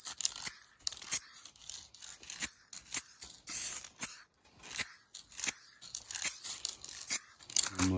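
Black gloss spray paint hisses from an aerosol can onto a car headlight in repeated short bursts, each spray sharp and close with brief pauses between, ending in a faint rattle.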